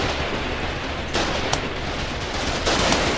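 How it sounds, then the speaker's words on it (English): Gunfire in a massive base assault in the video game Foxhole, a dense, continuous crackle of shots with a few sharper bursts standing out, loud and without speech. "Just gunfire."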